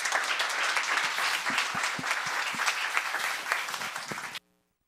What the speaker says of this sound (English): Let's have a round of applause for Isabel.